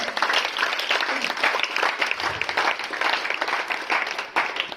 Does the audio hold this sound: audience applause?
yes